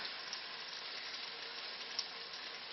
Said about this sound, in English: This is called sautéing.